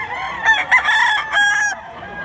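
A black-legged, big-sized rooster at a poultry sale in Mantalungon, Cebu crows close and loud, a single stretched cock-a-doodle-doo lasting about a second and a half.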